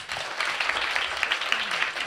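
Church congregation applauding during a Sunday service, a steady moderate patter of many hands clapping for about two seconds with no talk over it.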